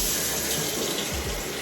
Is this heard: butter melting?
no